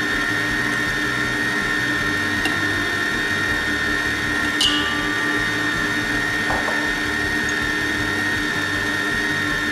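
Electric mixer whirring steadily at low speed through cake batter while melted butter is added, a constant close motor hum with a few faint clinks, no talking.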